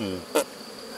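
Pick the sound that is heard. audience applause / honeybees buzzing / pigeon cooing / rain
honeybees buzzing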